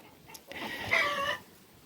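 A single short, nasal cluck-like call rings out from a henhouse full of chickens, with a rooster newly among them, moderately close over quiet background rustling.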